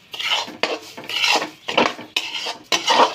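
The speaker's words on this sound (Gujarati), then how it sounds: "હવે એકદમ હલાવવાનું" A spoon scrapes and stirs grated coconut and sugar in a metal pan, five rhythmic rasping strokes, close and fairly loud with no talk.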